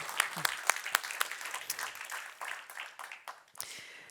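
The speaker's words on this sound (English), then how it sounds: "So another applause." Sparse applause from a conference audience, quiet and somewhat distant, with a few sharp individual claps standing out from a thin patter that rises briefly and then tails off.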